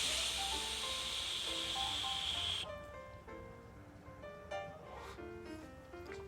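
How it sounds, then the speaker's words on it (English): A long vape drag on a VooPoo Drag 157W mod fitted with an Armageddon tank at around 100 watts, a steady loud airy hiss for about two and a half seconds that cuts off, followed by quieter background sounds. "You get a nice long drag on it."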